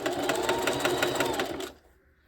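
A Singer sewing machine stitches wig wefts at close stitch length, running in a fast, steady mechanical rhythm for about a second and a half before stopping abruptly into near silence.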